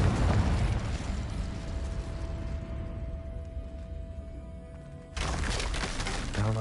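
Confringo spell blast in Hogwarts Legacy on PS4: a loud, broadband explosive burst opens, then a rumbling, fading tail with a lingering tone, before a second loud crash erupts near the end.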